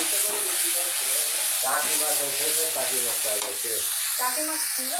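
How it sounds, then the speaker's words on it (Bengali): Taki fish cooking in a pan, a loud continuous sizzle and hiss up close, with a voice talking over it. "তো এই যে মাছটা আমি এখন রান্না করবো।"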